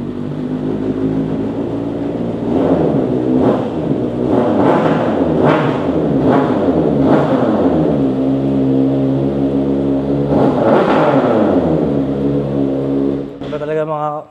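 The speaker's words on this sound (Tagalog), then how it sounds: "naka-Austin Racing na matabang exhaust, so napaka-pogi at napakalakas din ito" A big bike fitted with a fat Austin Racing exhaust is revved hard in a series of loud, close throttle blips that rise and fall over a steady idle rumble, with people talking over it.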